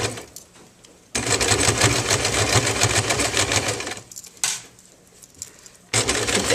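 A sewing machine stitching along a garment hem, running in long steady whirring bursts with brief pauses between them, close and loud.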